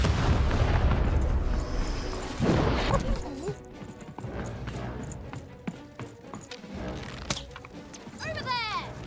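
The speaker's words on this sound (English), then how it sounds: "Shoot the button to fire the cannon." Heavy booms and crashes from cannon fire in the video game Lost in Random, punctuated by sharp impacts and clattering, with voices talking over the action.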